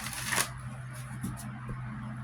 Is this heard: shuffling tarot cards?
yes